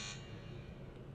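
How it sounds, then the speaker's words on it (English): An alarm sound file plays for a fire detector app built with an Arduino Uno and MIT App Inventor, giving a faint, steady buzzing tone that holds without a break. "this alarm sound"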